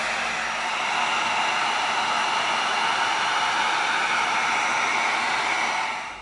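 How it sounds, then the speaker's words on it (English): Heat gun blowing hot air over an EVA foam mallet strap to seal it, a steady loud broadband hiss held for about six seconds with no pauses, close to the microphone. "Now we're going to come in with our heat gun."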